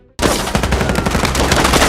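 Rapid gunfire from an action film shootout with robbers, a sudden loud burst of repeated shots after a brief silence, continuing dense and sustained throughout.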